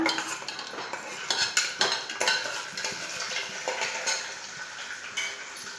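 Chana dal and urad dal roasting in a pan for mango rice, stirred with a metal spoon that scrapes and clinks against the pan in quick irregular strokes over a faint sizzle, close and moderately loud with no talking.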